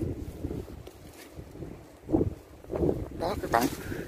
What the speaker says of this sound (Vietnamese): Sáng nay sóng lớn, gió mạnh quá.